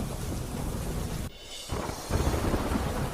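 Heavy rain pours down over villages of Talala and Veraval in Gir Somnath, a dense steady roar with a brief dip in the middle before it swells louder again, with a rumbling, thunder-like low end.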